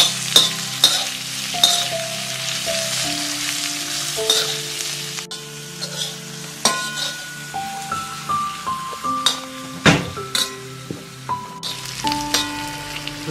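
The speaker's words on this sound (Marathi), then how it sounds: "आता हा कांदा आपण छान परतून घेऊया." Chopped onion sizzling and frying in oil in a pan, a steady crackling hiss with stirring clinks and scraping, close and clear, with background tones and no talk.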